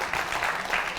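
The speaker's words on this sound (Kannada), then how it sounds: "ಎದ್ ನಿಂತು ಚಪ್ಪಾಳೆ ಹೊಡಿತಾ ಇದ್ದಾರೆ" An audience on its feet at a televised singing reality show gives a standing ovation: dense, steady applause that fills the whole moment with no voices on top.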